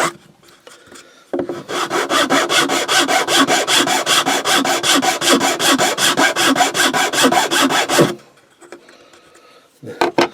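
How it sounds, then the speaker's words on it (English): A flat file rasps across scrapwood in fast, loud back-and-forth strokes for several seconds, smoothing the edge of a domino stand down to a line, with brief quieter handling before and after. "I've used the file to get it down near enough to the line."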